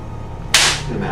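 A whip cracks once indoors at a show, a single sharp, loud snap that trails off over a low steady background hum.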